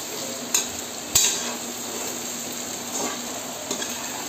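Grated ginger sautéing in hot oil in a pan for a rava kichadi, a steady soft sizzle running throughout with a couple of sharp utensil taps against the pan near the start.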